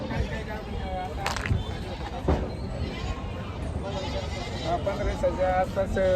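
Osmanabadi goats bleat at a busy goat market, wavering cries rising now and then over a constant crowd murmur and nearby talk.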